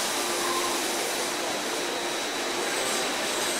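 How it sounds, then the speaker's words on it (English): A robot grinds knives against sanding and grinding tools, giving a steady, loud broadband whir with a faint high whine, continuous throughout without talk. "to grind the knives to create a perfect edge."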